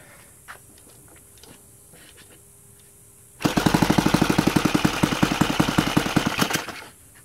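A Saito FG36 model engine fitted with a CDI ignition conversion is running at very low RPM, about 1300. It starts abruptly after a quiet stretch and gives a loud, close, rapid chugging of distinct firing pulses for about three seconds before stopping.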